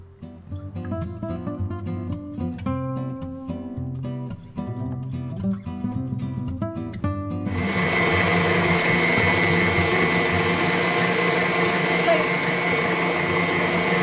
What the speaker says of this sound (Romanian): Asta punem albușurile la mixer să le batem spuma.